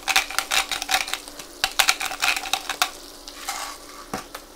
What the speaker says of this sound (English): butter's melted. I'm gonna put my salmon in the pan.